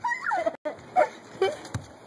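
A dog whimpers and lets out short, high yips in brief bursts while sniffing at a fake dog, close by, with small pauses between the sounds.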